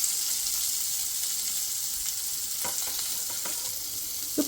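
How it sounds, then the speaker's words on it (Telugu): Sliced onions sizzle in hot tempering oil for a ridge gourd pulusu, a steady close frying hiss with a few soft stirring clicks and small crackles near the end, no voices. "ఇప్పుడు తాలింపు వేగిపోయింది కదండి, మనము ఉల్లిపాయ ముక్కలు వేద్దాం."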